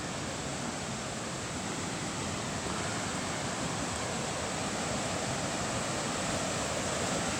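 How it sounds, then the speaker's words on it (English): A lively creek rushes close by in a dense, even, continuous roar of flowing water that stays loud and unbroken throughout, with no voices heard. "It is a pretty lively creek"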